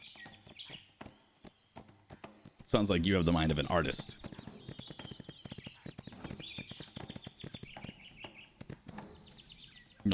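Rapid horse hooves clip-clopping in the video game Windstorm, steady clopping running under most of the clip beneath someone talking, with a loud burst partway through.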